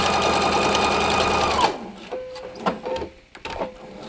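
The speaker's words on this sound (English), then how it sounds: "I'm going to go ahead and sew that down and come past" A sewing machine stitches down a paper-pieced quilt block, running fast and loud in a steady rapid hum, then stopping and continuing in short slower bursts of stitches, close and without talk.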